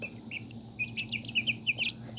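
Serama bantam chickens clucking nearby, a string of soft, quick clucks and chirps that grows busier toward the end over a faint background hum.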